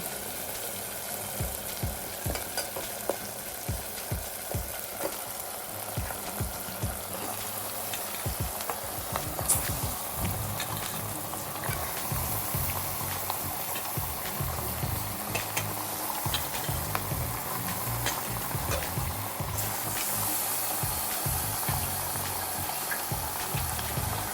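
Goat head mutton sizzles and fries in a pan while being stirred, giving a constant crackling hiss with scraping stirs, moderately close and with no speech.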